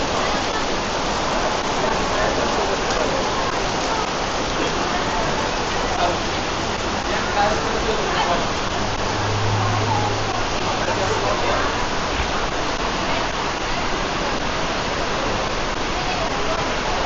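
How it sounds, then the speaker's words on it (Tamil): Heavy rain pouring down at Sentosa, a dense, constant roaring hiss that stays loud and unbroken, with a faint low hum partway through. "எப்படி பெய்யுது பாருங்க மழை."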